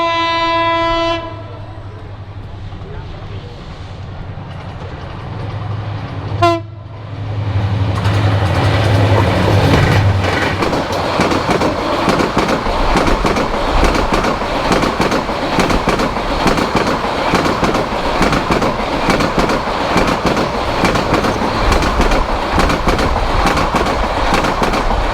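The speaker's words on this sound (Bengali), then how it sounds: "একদম দুর্দান্ত গতিতে আমাদেরকে ফেলে চলে গেল সুবর্ণ এক্সপ্রেস।" The Suborno Express sounds a long multi-tone horn, then thunders past at high speed near Narsingdi station, a loud sustained roar with rapid clattering wheels that continues to the end.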